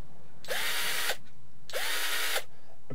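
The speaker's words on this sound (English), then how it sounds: "This is an old drill stroke screwdriver that I had in the garage for ages." An old cordless drill screwdriver runs in two short, close bursts of about half a second each. Each burst opens with a rising whine, then holds a steady high-pitched motor buzz before stopping.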